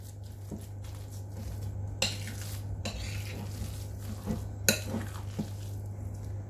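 Turkey kebab meat being mixed with oil in a bowl, giving soft squelching stirs and a few sharp clinks of a utensil against the bowl over a steady low hum, close and quiet.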